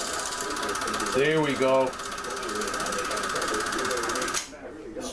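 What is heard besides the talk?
Sankyo Sound 600 film projector threading film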